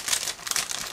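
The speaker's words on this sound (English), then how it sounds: "Next we have this plastic bag with clear sprues, so just give me a second again." A plastic bag holding clear plastic model kit sprues for a 1/35 scale armored car is handled, giving a close, continuous crinkling rustle with several louder bursts and no talk.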